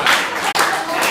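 A crowd at a live event claps briefly, in a dense, loud burst of hands lasting about a second.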